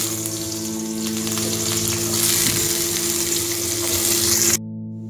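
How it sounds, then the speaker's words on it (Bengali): Potato pieces frying in hot oil in a wok, a loud, steady sizzle close by with faint stirring, over a constant electrical hum, cutting off sharply near the end. "আলুটা ভেজে নেব।"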